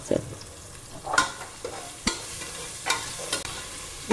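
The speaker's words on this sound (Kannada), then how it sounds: "ಸ್ವಲ್ಪ ಫ್ರೈ ಆಗ್ಬೇಕು." Onions with salt frying in a pan for chicken donne biryani, a low sizzle broken by repeated scraping stirs of a spoon, close and without voices.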